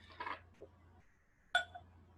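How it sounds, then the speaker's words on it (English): Glenmorangie 10 year old whisky is poured briefly into a glass, a short splashy rush followed a second later by a single bright, ringing glass clink, close and fairly quiet against a low steady hum. "let's get some of this 10-year-old in the glass."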